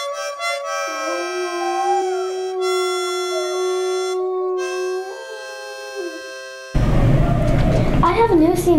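A dog howls in long, wavering tones along with a bright musical melody for several seconds, at a local TV show, before the music cuts to a louder, dense burst of sound near the end.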